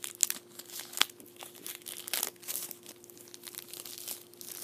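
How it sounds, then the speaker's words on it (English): A wrapper being crinkled close up in a quiet setting, with soft rustling and a few sharper crackles scattered across a few seconds. "Maybe you might be able to hear the crinkling a little better."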